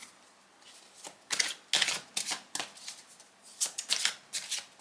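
Tarot cards are shuffled up close in a quiet room. Quick crisp riffles and soft slaps of the deck come in irregular bursts, with short pauses between, and no voices.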